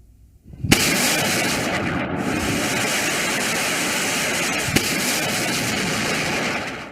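Missile and rocket strikes hitting Gaza during the Israel–Hamas war: a sudden loud blast opens into a sustained, dense roar of rumbling detonations and crackling fire, with a second sharp impact partway through, no voices.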